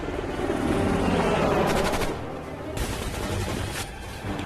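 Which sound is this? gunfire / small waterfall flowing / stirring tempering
gunfire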